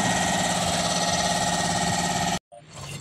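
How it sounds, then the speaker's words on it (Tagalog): An air compressor mounted underneath a vehicle, used to inflate a flat tire, drones loud and steady with an engine-like hum, then cuts off abruptly, leaving quieter background clatter. "Medyo maingay lang guys kasi yung compressor naka-under eh."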